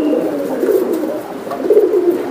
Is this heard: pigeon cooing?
yes